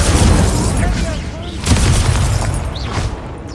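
An Incendio fire spell cast in Hogwarts Legacy, a loud roaring whoosh of flame with booming bursts and crackling, dense and close, layered over other spell effects.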